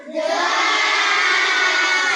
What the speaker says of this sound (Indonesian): tepuk tangan untuk Bimo